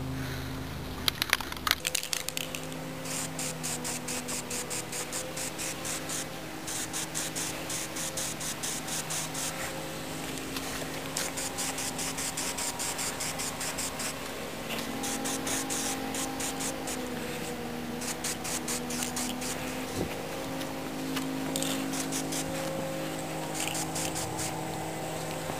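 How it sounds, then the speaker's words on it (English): Aerosol spray paint applied as a first gold coat to the back fender of a Dirt Bug minibike, a steady close hiss running nearly continuously with brief pauses, over a faint background hum. "now I'm going to do my first coat with the spray paint"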